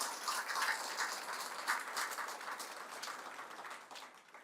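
An audience applauds Dr. Karthikeyan, a young doctor, at a public gathering. The clapping is dense and steady, fades slightly toward the end, and no voice is heard.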